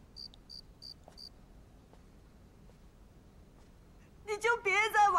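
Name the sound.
crickets chirping, pet fighting crickets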